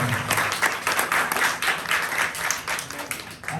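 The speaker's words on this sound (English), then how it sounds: "Please give a round of applause for that." Applause from an audience at a Christmas and New Year celebration, steady clapping from many hands held at an even level for a few seconds, with no voices over it.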